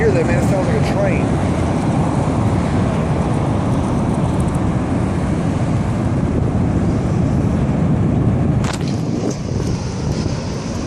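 An approaching EF5 tornado in Moore, Oklahoma produces a loud, continuous low roar blended with heavy wind buffeting the microphone, steady throughout with a brief sharp rattle near the end.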